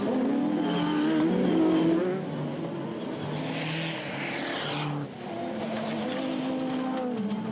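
A BMC diesel racing buggy at the 2011 24H Tout Terrain de France off-road endurance race. Its engine revs and roars up close, with loud, shifting engine notes and brief tyre squeal.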